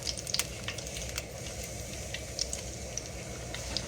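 Breakfast food frying in a pan on a home stove, a steady soft sizzle with occasional small pops and crackles, fairly quiet and close, no voices.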